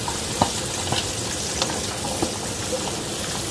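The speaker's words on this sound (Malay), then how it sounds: "Halia muda, batang daun bawang, dan tumis." Young ginger and spring onion stalks stir-fry in hot oil for fish head bee hoon soup, giving a steady, loud sizzle with small bursts of crackle as the pan is stirred.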